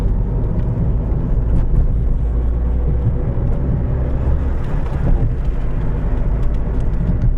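A car cruises along a highway after a shift into third gear, its engine and road noise forming a steady, loud low rumble heard from inside the cabin, with no speech.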